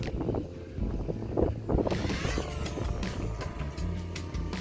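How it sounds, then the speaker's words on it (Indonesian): Wind gusting around a small DJI Ryze Tello drone in flight outdoors, a steady rushing roar that swells partway through, with a faint high whine of the drone's rotors mixed into the noise. "Oh, emang nggak tenang, lagi banyak angin ini."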